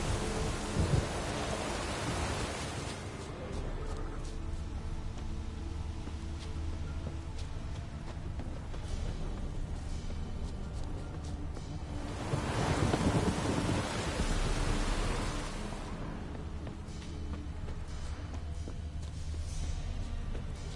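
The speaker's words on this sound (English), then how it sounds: "A storm, damn it." A thunderstorm in The Witcher 3 video game: steady heavy rain under wind, broken by two long rumbling rolls of thunder, one at the start and another midway, with no talk.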